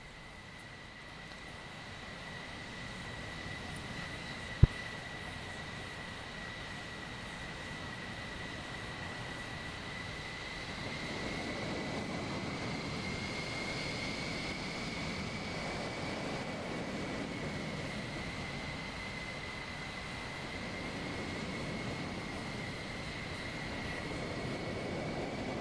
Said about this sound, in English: we've got the last of the GCs taxiing along now.